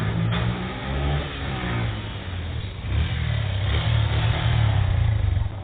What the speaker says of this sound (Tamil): நீ வண்டியை ஓட்டு.